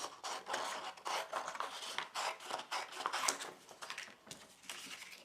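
Paper being snipped with scissors while shaping a Father Christmas pop-up card, a run of close, dry rustling cuts and scrapes with brief gaps, no voices.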